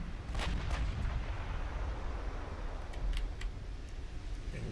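Battleship shellfire in a naval combat game echoes as a continuous rumble, broken by several sharp distant cracks and booms at irregular intervals, fairly loud, with no talking.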